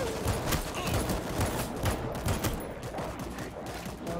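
Rapid gunfire in the zombie shooter World War Z, repeated sharp bursts in an uneven rhythm, fairly quiet and heard alone.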